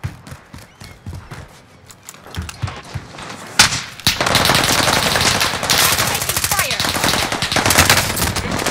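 PPSh submachine gun fire in the video game Rebirth, from a hipfire build, starts as scattered shots and then becomes a loud, sustained rapid burst of automatic fire lasting several seconds.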